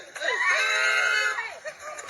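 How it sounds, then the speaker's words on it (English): A woman screams for help in a street altercation, a loud, sustained, wavering cry that rises and falls, followed by a shorter shout. "she's screaming, as you can hear, she's screaming for help, help, someone help"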